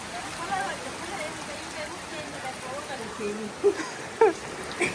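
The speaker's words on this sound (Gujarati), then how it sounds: "અમારે વરસાદ આવ્યો છે" Rain falls steadily outdoors on a farm during a storm, a constant wash of noise close by, while voices talk over it with a few short knocks.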